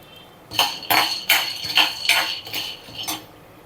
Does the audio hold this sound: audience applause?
no